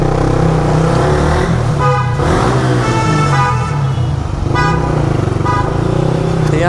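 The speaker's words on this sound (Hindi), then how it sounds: "ये बंदा हॉर्न मार रहा था कार वाला" Car horns honk in a few short bursts over the steady roar of Bangalore road traffic and engines nearby.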